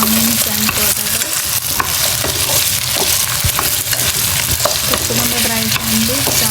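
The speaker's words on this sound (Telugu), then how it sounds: "ఇప్పుడు బాగా మిక్స్ చేసుకున్నాం. Onions and potatoes" Potatoes and onions are stirred together in a hot pan for a palak potato masala curry, producing a steady, loud sizzle with repeated scraping and stirring strokes throughout.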